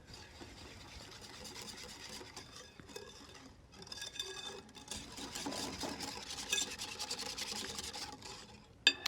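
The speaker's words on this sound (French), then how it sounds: "Vous mélangez bien." Melted chocolate mixture with sugar being whisked for a chocolate tart, heard as quiet, close, continuous rubbing and scraping strokes in a bowl with a short lull partway through and a sharp clink at the end.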